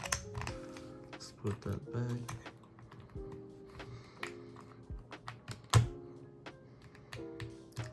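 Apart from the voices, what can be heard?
mechanical keyboard typing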